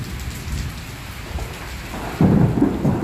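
Thunder from a lightning strike during a heavy rainstorm with hail in Islamabad rumbles low under steady rain, swelling into a loud, close rolling boom in the final second; no one speaks.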